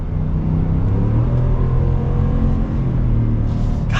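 The engine of a 2021 Ford F-150 RMT off-road truck rumbles loudly and continuously from inside the cab while driving, a deep steady drone with a slight rise near the end and no one speaking.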